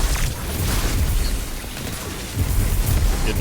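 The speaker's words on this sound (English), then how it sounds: "Grenade." A grenade goes off in a sci-fi shooter, a Warlock void build detonating among weakened, volatile enemies; low booming rumble swells at the start and again near the end, loud and continuous without talk.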